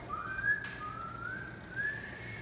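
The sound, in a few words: person whistling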